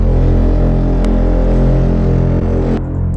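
A sci-fi dropship horn built from a foghorn layered with a synthesized note sounds as one loud, sustained, droning blast with a rich buzzy tone, cutting off sharply near the end.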